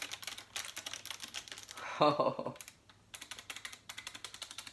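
Typing on a Razer Ornata Chroma mechanical-membrane gaming keyboard, bursts of rapid clacky keystrokes near the mic, broken by a brief spoken exclamation and a short pause before the typing resumes.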